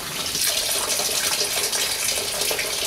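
Tap water gushes steadily into a sink to cool a yeast starter flask of wort, a continuous close splashing rush with no voices.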